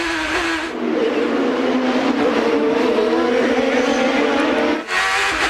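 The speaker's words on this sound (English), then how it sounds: "here again is this battle on board the CDW R Sport car of Justin Wilson" Onboard a CDW R Sport Champ Car at the 2007 Long Beach street race, the engine drones loud and steady with rising and falling revs, briefly dipping during a gear change.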